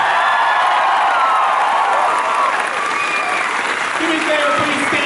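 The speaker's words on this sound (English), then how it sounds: "Nice round of applause for the lovely Tricia Helfer." Convention crowd applauding at a Battlestar Galactica fan panel, a loud, continuous roar of clapping with scattered cheers and whoops, voices mixed in throughout.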